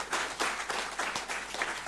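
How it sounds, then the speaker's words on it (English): Faint, scattered applause for Gary Stevenson, a small group clapping in loose, uneven bursts that come across as quiet and somewhat distant. "Now I would like to ask you a round of applause for Gary"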